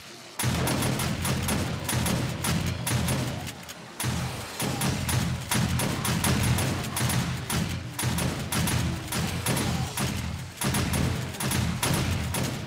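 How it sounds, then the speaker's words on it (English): Shotgun turrets in the video game 7 Days to Die, on an Alpha 16 multiplayer server, firing in rapid, continuous overlapping bursts of loud blasts that barely pause for the full stretch. "So we just let the shotgun turrets do all the work."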